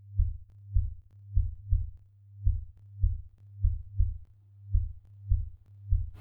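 A synthesized sinc-function tone pulses as a low, throbbing beat like a bass line, a steady series of soft thumps repeating roughly every half second with a continuous low hum underneath.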